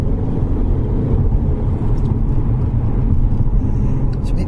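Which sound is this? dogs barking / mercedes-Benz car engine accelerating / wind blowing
mercedes-Benz car engine accelerating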